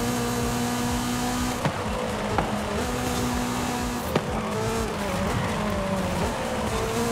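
Engine held at full throttle in a racing video game, a steady loud drone with a sustained pitch and a few faint knocks, no voices.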